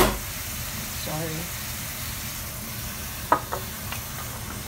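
Pork ribs and belly fry in a pan as the lid comes off for adobo, giving a steady close sizzle with a few sharp clicks and clatters of utensil or lid near the end.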